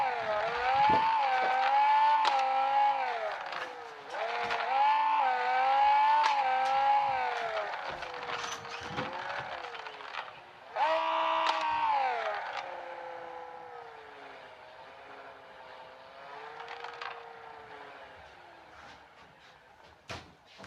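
A Tofaş Şahin car drives along, its engine droning and rising and falling through several revs, then settling into a steadier, quieter run with faint clicks and bumps.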